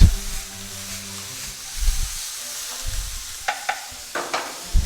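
Holy trinity vegetables soften and sizzle in a hot pan on a stove, with scraping stirs and low thumps of the spoon over a steady frying hiss, close up and without talk.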